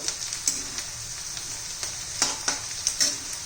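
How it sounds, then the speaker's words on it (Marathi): Onion, turmeric and chilli sauté in a pan for kanda poha, a continuous close sizzle with spatula clinks and stirring taps scattered through it. "खूपच छान झालेला आहे आपला कांदा हळदी आणि मिरची परतून"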